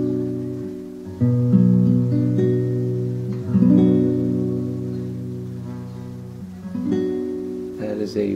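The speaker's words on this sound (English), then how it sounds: "That is a B bar chord." A guitar plays a B barre chord, strummed and re-struck several times with shifting picking, each attack ringing and decaying, close and clear with no talking.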